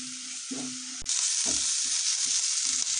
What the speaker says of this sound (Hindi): प्याज हमारे भूनने लगे हैं, प्याज को हमें ज्यादा नहीं भूनना है।